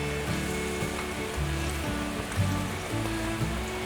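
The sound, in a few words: water at a rolling boil in a pot, eggplant added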